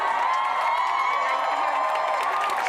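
Protest crowd at UC San Diego cheering after police leave, a steady dense roar of many voices with scattered whoops, sustained and fairly loud throughout.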